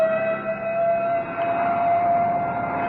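Ambulance and crash wagon sirens wail in a radio drama, a steady sustained siren tone holding throughout at moderate loudness with no voices over it.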